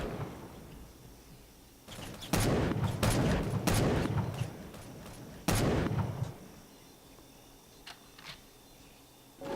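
Grenades exploding in a GameGuru first-person game: a burst of several loud, sharp blasts in quick succession, a pause, then another heavy explosion, each with a brief rumbling tail, over a quiet background.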